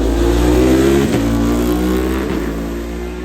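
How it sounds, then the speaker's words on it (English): A racing car's V-twin engine at the Goodwood Festival of Speed roars loudly and steadily nearby, with two brief dips like gear changes before the throttle note carries on alone. "It's just unique V-twin sound"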